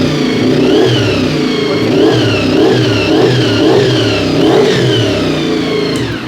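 Honda VFR 400 Z V4 naked motorcycle engine revving repeatedly, the pitch rising and falling in several strong swells, with a faint high whine from the gears riding above the loud, close exhaust note.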